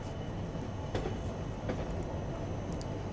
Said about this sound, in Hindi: इसी के साथ अपनी ट्रेन पहुंच की है कैसल रॉक रेलवे स्टेशन।